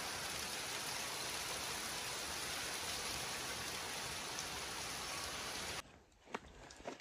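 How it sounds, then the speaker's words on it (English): Mixed rain, snow and hail driven by wind at an off-grid cabin, a dense steady patter and rush filling most of the stretch before it cuts to quieter scattered sounds at the end. "it's like, it's rain, snow, and hail all at the same time. And wind."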